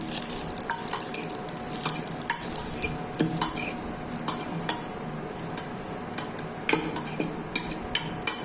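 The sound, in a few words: stirring spice mixture sizzling in ghee in a pan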